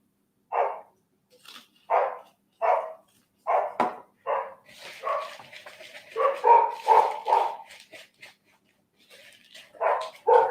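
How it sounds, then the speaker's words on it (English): Dogs bark in a home kitchen, a rapid series of loud, close barks with a few yips and whines, mostly alone with no talking over them. "I'm sorry, can you hear the dogs?"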